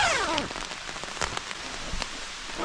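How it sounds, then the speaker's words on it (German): Rain patters steadily on a pitched tent during a trekking trip, a soft, close hiss broken by scattered louder drops striking the fabric. "Das Zelt steht und pünktlich fängt schon wieder an zu regnen."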